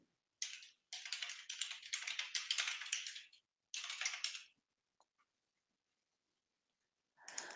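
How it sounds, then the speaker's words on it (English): Details are typed on a computer keyboard in a quick clattering flurry of keystrokes, broken into bursts by short pauses and one long silence, close and fairly quiet. "I need to type in my details here."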